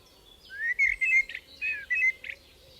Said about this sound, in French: Les merles des villes chantent plutôt le matin que les merles des champs.